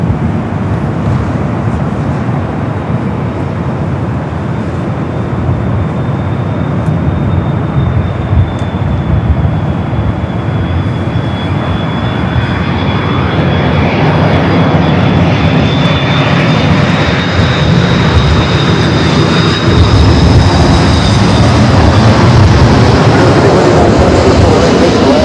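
An Aer Lingus jet airliner at LAX roars loudly and steadily for the whole stretch, its engine noise building slightly toward the end with a thin whine riding above the broadband rumble.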